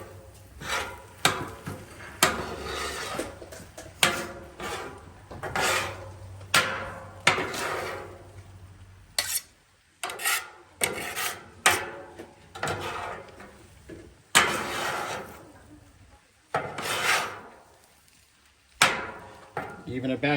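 Chicken fried rice is worked on a Blackstone flat-top griddle with metal spatulas, giving repeated sharp scraping and tapping strokes in uneven bursts, close and fairly loud, with short pauses between them.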